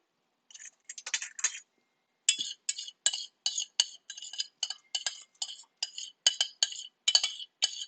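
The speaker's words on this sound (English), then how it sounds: "I'm going to move it into a different pan." Dal being moved into a different pan in a home kitchen, heard as a rapid run of close metallic clinks and scrapes of a spoon against the pan, with a brief gap before a steady series of knocks.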